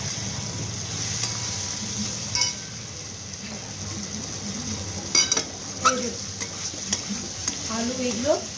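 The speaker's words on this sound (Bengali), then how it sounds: "আলু এগুলো আমার মাছের তেল দিয়ে ভাজা ভাজা হয়ে গেল" Potato and eggplant pieces fry in fish oil in a pan, giving a steady close sizzle. A spatula stirs and scrapes them, with occasional clinks against the pan.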